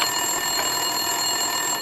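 An office desk telephone rings in Max Payne 2, a steady, continuous electronic trill with bright, sustained tones running from start to finish, fairly loud and close, with no voices.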